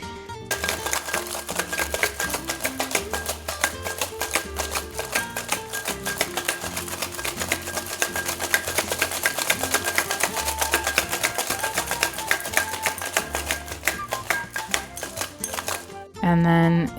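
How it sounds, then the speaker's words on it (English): A metal cocktail tin packed with ice and a rich, fatty dessert cocktail is shaken hard, giving a dense, rapid rattle of ice against metal for about fifteen seconds while a voice speaks over it. "it gets a really good, nice, hard shake until the tin is extra frothy and frozen."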